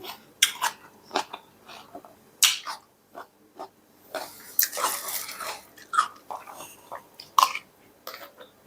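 Cherry tomatoes from a 7-Eleven being bitten and chewed up close, with a run of wet crunching bites coming in uneven bursts and short pauses between them.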